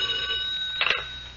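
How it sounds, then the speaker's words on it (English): An old-fashioned telephone bell rings as a radio drama sound effect, a steady metallic trill heard close and alone, with a brief louder burst partway through. "we were going to get it. We just about finished going through the overnight reports for some kind of a lead when the phone rang."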